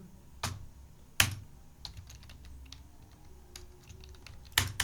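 Keys tapped on a computer keyboard while entering data in accounting software, a few sharp, close clicks with louder key strikes, like Enter being pressed, spaced through otherwise quiet air with no speech.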